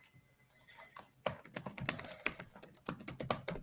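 Clacking keystrokes on a computer keyboard during a live 3D printing hangout, an irregular run of sharp close taps with brief pauses, heard alone without talk.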